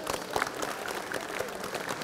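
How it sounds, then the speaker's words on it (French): Audience applause at a departmental veterans' congress in a hall, a dense, moderately loud patter of many hands clapping, steady throughout the short stretch. "vous pouvez l'applaudir"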